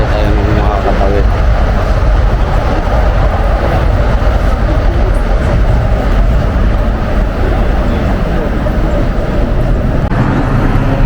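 A train passes near Tokyo Tower in Minato City, Tokyo, making a loud, close, steady rumble and roar that fills the whole stretch without letting up.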